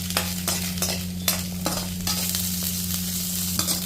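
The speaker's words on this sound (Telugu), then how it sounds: "ఈ రెండు కొంచెము పచ్చివాసన పోయేటట్లు వేయించుకోవాలి." Carrot and green chillies fry in hot oil, a steady close sizzle broken by regular scraping strokes of a spoon stirring through the pan, over a constant low hum.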